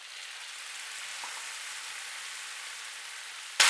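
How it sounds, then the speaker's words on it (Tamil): Chopped tomatoes hit a hot pan of cooked shallots for a South Indian chutney, giving a steady soft sizzle that jumps to a loud, close burst of frying at the very end. "இப்போ வந்து அடுத்து தக்காளி சேர்க்குறேன்."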